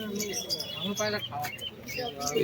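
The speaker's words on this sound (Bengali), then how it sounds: "এই খাঁচার মধ্যে কিছু দাদারা পায়রা নিয়ে এসে সেল করছে" Pet pigeons caged for sale at Birnagar village market give repeated close chirps and soft coos amid busy crowd chatter and general market bustle.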